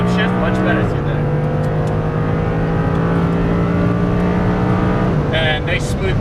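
An Audi R8 engine on a race track, loud and close, revving hard as it accelerates with two clear upshifts where the pitch drops before climbing again.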